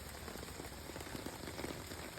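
Steady rain falls outside, pattering on surfaces close by, an even, dense hiss of drops with small taps scattered through it and no voices.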